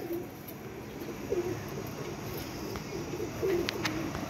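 Soft, low cooing from pet pigeons, including blue and teddy-type hens, comes in a few short murmured phrases against steady background hiss, fairly quiet and close.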